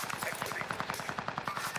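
Rapid automatic gunfire in the video game Call of Duty Vanguard Warzone, a dense rattling burst running steadily throughout, fairly loud and close.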